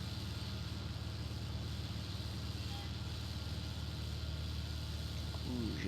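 Small combine harvester in a farming video game, a steady low engine drone with broad mechanical hum running continuously at even level throughout.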